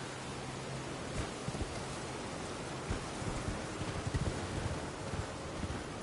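Rain falling in the video game Elden Ring, a constant hiss of downpour with scattered heavier drops and patters over it.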